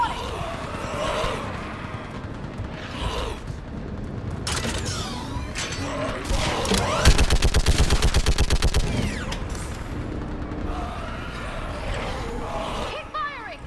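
A mounted gun firing in the video game Mass Effect 3 on Thessia: a fast, loud stream of rapid shots in the middle, with scattered bursts and battle noise around it and voices speaking.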